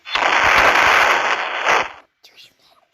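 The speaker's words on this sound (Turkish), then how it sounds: "Böyle büyük bir patlama olacak ki arkadaşlar." Bomb blasts in the Roblox game Brookhaven: a loud, dense crackling explosion roars for about two seconds, then cuts off, leaving faint scattered after-sounds.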